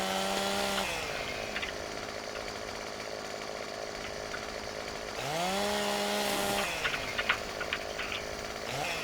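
Chainsaw in a forestry video game delimbing wood: the engine revs loud and steady, dips to idle near one second, roars back up around five seconds, with small cutting clatters toward the end.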